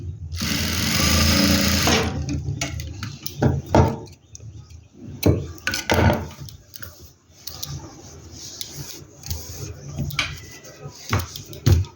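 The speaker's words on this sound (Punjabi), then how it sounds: "ਦੇਖੋ ਹੁਣ ਆਪਣੀ ਲੈਸ ਆ ਜਿਹੜੀ ਇਹ ਸਲਾਈ ਲਗਾਉਣ ਤੋਂ ਬਾਅਦ ਗੁੰਮ ਹੋ ਜਾਊਗੀ" A sewing machine stitching lace onto a kameez runs in a loud continuous burst at first, then follows with short stop-start stitching runs and clicks, with a voice talking in between.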